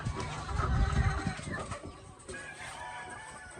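White Leghorn cross hens clucking and fluttering close by on a farm, with scattered bird calls over a busy outdoor background.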